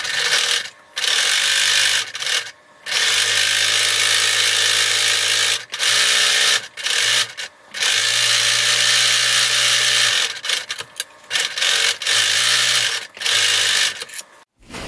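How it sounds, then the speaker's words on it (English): Sewing machine or serger stitching seams on fleece mittens, fast whirring mechanical bursts that start and stop repeatedly with brief pauses, close and loud with no talking. "Use either a zigzag or a serger and backstitch when you start and when you stop."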